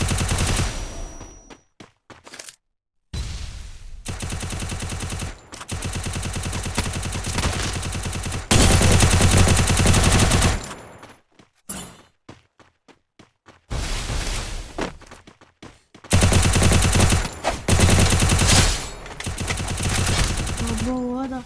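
Gunfire from the mobile shooter game Free Fire comes in loud bursts of rapid automatic shots, broken by short silent gaps, over roughly twenty seconds of close, heavy firing.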